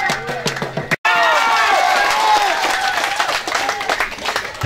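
Crowd of supporters applauding and cheering at an outdoor political campaign rally on an island in Kota Tual, a dense wash of clapping with shouts and voices mixed in after a brief cut.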